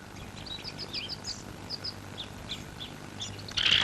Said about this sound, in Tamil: என்னடா தலையில கூடு கட்டி குருவி எல்லாம் பறக்குது